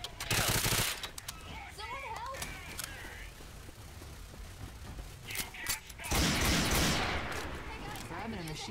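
Machine gun fire in Left 4 Dead 2 on The Passing with PAYDAY mods, loud rattling bursts at the start and again near the end, with game voices and action sounds between.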